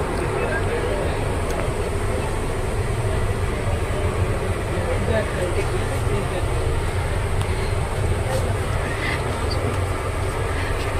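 Steady low rumble and hiss inside a moving 3-tier AC train coach on an overnight journey, a constant even drone with faint clicks and no clear voices.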